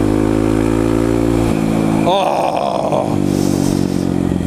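Single-cylinder 250cc Kawasaki KLX 250 SF supermoto with an FMF exhaust, loud and close, idling steadily, then blipping the throttle once before settling back; a voice briefly exclaims over it.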